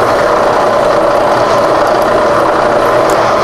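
A milling machine spindle turns steadily at about 100 RPM, giving a continuous loud mechanical whir with a dense gear-like ratcheting texture and no pauses.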